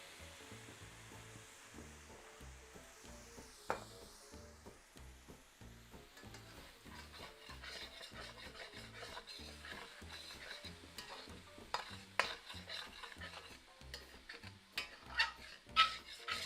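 A pan sizzles steadily as apple cider vinegar is added to deglaze it, with a constant crackling hiss and scattered clinks and scrapes of utensils, fairly quiet and close.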